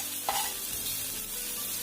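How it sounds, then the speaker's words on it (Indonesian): Garlic sizzles in about two tablespoons of hot oil while being stir-fried, a close, constant hiss with a brief clink of utensil against the pan near the start. "Masukkan bawang putihnya."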